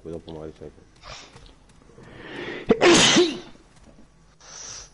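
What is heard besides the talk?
sneeze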